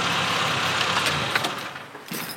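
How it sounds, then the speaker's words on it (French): A car engine idles steadily up close with a broadband rumble, then cuts off near the end, leaving a brief quieter tail; no talking over it. "Je vais d'abord éteindre la voiture."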